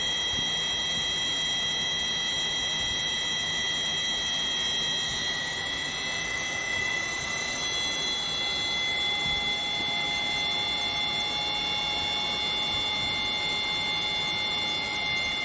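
A 3-phase permanent magnet generator driven by a synchronous motor runs steadily at around 2000 RPM, giving a constant loud electrical whine with high tonal squeals that shift slightly in pitch over time.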